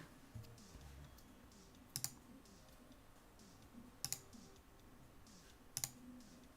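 Computer keyboard clicks come in three short, sharp bursts about two seconds apart over a faint steady background, with nobody talking.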